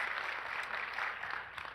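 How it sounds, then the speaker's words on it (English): A live audience applauds a speaker at an education talk, brisk continuous clapping at a fairly faint, distant-sounding level throughout. "So can we give her a round of applause"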